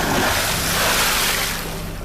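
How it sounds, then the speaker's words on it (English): Big ocean waves churning as a typhoon approaches, a loud, broad rushing wash mixed with wind buffeting, swelling and then easing slightly. "So I took you there in spite of the big waves."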